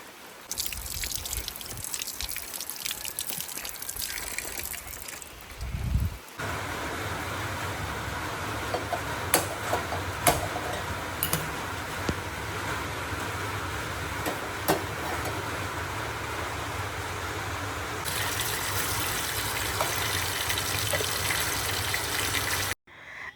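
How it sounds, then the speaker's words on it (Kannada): Heavy rain pours down in a dense, steady hiss after a brief lull, with a few sharp drips and splashes standing out near the microphone and no speech. "ಮತ್ತೆ ಜೋರಾಯಿತು ಮಳೆ"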